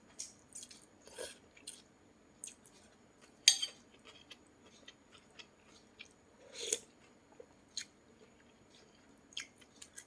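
Someone eating a solo meal of instant noodles with mini cocktail sausages and salad, with wet chewing, soft crunches and occasional utensil clicks close to the mic, scattered in bursts over quiet.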